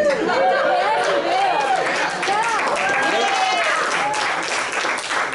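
A packed, enthusiastic crowd fills a small room at a re-election fundraiser for a state representative, with steady, dense chatter and applause mixed together throughout at close range.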